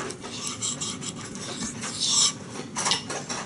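A knife is sharpened on a Chosera 3000 water stone, giving a continuous close, gritty rasping of steel stroked back and forth across the wet stone, with slightly louder strokes toward the end.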